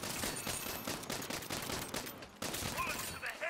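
Rapid gunfire from the video game Saints Row, dense bursts of shots rattling continuously and loudly, with a brief gap partway through before the firing resumes.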